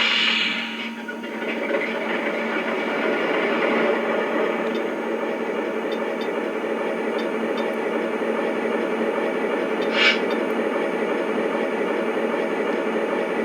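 Model diesel locomotive sound effects with a steady engine rumble and droning hum running continuously at moderate level, with a brief higher click or hiss standing out partway through.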